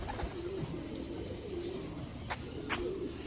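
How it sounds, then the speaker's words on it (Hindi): Soft, low cooing of Sialkoti pigeons repeats several times against a noisy background, fairly quiet and steady. "ये हैं दोस्तों सियालकोटी चूहे कबूतर"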